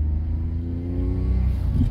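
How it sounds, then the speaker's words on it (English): A 1996 Daihatsu Mira TRXX's small turbocharged engine hums steadily at low speed from inside the cabin, a continuous close drone with a faint rising whine; no voices. "We're going so slow it makes the best turbo noises."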